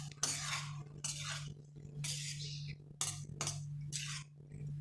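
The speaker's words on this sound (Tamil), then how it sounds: "ஒரு சின்ன பரட்டி எடுத்துடலாம்" A spoon scraping and stirring yellow pumpkin poriyal in a pan, in repeated short bursts of scraping at a steady rhythm, close and fairly quiet over a low hum.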